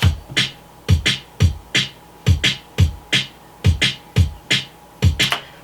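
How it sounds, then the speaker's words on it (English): Programmed drum and bass beat at around 174 BPM, with punchy kick drums and crisp snare hits in a simple repeating pattern, loud and dry with no other sounds. "a really simple drum and bass pattern simply has a snare on the first"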